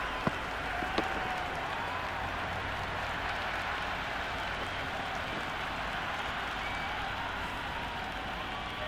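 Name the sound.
crowd cheering and applauding in Cricket 26 video game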